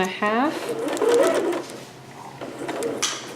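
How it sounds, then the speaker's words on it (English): A sewing machine back stitches a permanent stitch on a Vogue 8280 garment, a quick close whirring under a voice talking over it. "I'm doing a permanent stitch here, back stitching"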